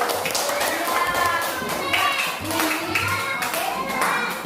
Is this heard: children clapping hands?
yes